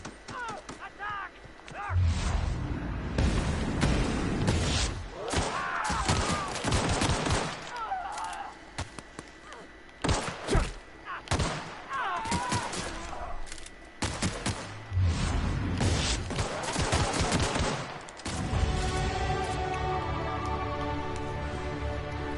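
Gunfights in The Outer Worlds come as repeated bursts of loud shots and impacts separated by short gaps, with some mechanical clatter mixed in and a steady tone near the end.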